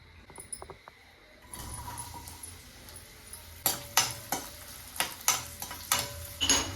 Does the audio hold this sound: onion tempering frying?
yes